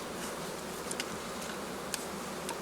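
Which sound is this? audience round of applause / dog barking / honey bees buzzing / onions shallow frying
honey bees buzzing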